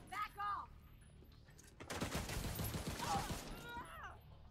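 Fully automatic MDR rifle fire in The Division 2, a continuous dense burst of rapid shots lasting about two seconds, framed by someone speaking before and after.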